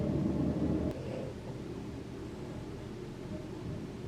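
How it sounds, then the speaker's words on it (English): A dump truck on trash day rumbles outside as a low, steady engine drone, loudest at the start and then easing into a continuous muffled rumble heard through walls. "that's the dump truck. It's trash day."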